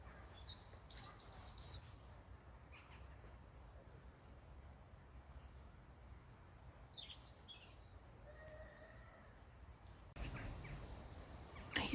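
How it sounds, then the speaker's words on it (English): Birds chirp and call outdoors on a nature walk among moss-covered trees, with scattered faint high tweets and short calls spread over quiet background hiss, a louder cluster near the start and end. "The birds are talking to each other."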